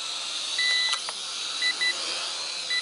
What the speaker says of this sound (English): The transmitter beeps the entire time it's recording.